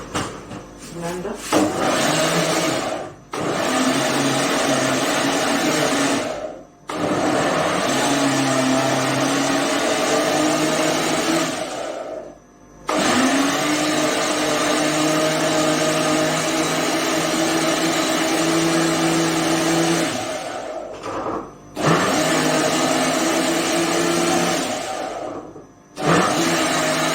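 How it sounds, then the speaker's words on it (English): An electric blender purees chunks of yam for pounded yam, its motor whirring loudly in several long runs with brief stops between them. A voice speaks at times. "So I'm going to blend it now."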